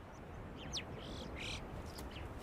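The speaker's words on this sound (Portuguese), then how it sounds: "A gralha de bico amarelo é parente do corvo comum e pode ser encontrada em todos os Alpes" A yellow-billed alpine chough calls in the Alps with several short, high chirping and trilled notes over a rushing background of wind.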